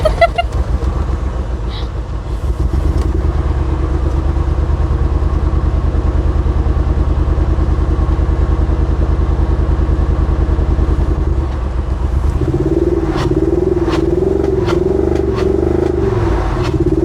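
BMW E60 550i V8 engine with a loud custom exhaust, idling close and heavy with a deep rumble, then settling into a slightly higher steady drone with some clatter near the end.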